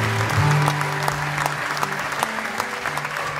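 Concert audience in a club applauding, dense continuous clapping that stays loud and even, with faint steady tones humming underneath.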